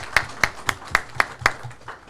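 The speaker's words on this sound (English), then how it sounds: "First, a big round of applause because" Clapping at a live event at the RISE Empowerment Center, six or seven sharp, evenly spaced claps close by, likely from a small group, fading out at the end.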